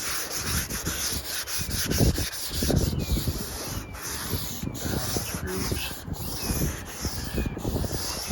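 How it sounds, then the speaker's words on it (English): A cloth scrubs Comet cleanser over the old painted body of a 1959 Ford wagon, giving a continuous gritty rubbing sound in back-and-forth strokes, close and fairly quiet, with a faint steady high whine behind it. "let's scrub it a little bit and just see what happens"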